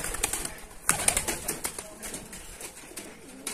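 Rajshahi Giribaj pigeons in a small loft, giving low cooing with bursts of wing flapping and fluttering, moderately close and fairly quiet, with no talk.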